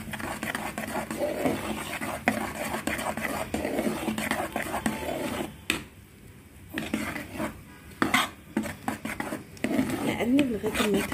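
A spoon scrapes and clinks around a pot while a fenugreek and flour mixture is stirred, irregular close metallic rubbing and taps, with a pause midway and someone talking over it.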